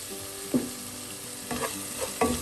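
Onions and tomatoes frying in a pan with salt for a small sardine chilli curry hiss steadily while a spoon stirs through them, giving several distinct scraping strokes over the sizzle, close and without voices.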